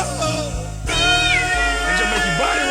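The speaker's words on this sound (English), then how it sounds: "That cat singing, ain't it?" A cat's meows form part of a song, rising and falling wails sung over a musical backing with a thumping low beat, loud and close, with no speaking voice.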